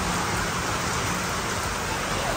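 Steady, even rain falls continuously as a dense hiss, with no pauses or other sounds standing out.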